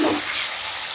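Paneer cubes frying in hot oil until lightly browned, for a vegetable basmati pulao; a steady, close, loud sizzle fills the whole short moment with no talking.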